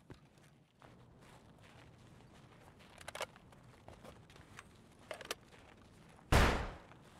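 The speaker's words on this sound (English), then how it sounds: "That's a flashbang shot." A flashbang goes off in the shooter game Escape From Tarkov: a single sharp, loud bang near the end, preceded by quiet footsteps and a few faint distant shots.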